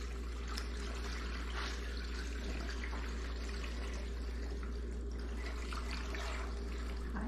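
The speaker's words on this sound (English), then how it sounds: "We put the water just until it reaches the top of the rocks." Water pours steadily into a 15-pound rotary rock tumbler barrel filled with rocks such as opal and petrified wood, a continuous close splashing trickle over a low steady hum, with no talking.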